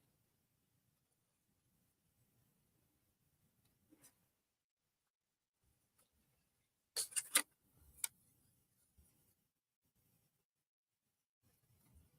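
Sharp snips slice through cardstock in a few quick bursts of crisp cutting at close range, surrounded by near silence with a couple of faint taps.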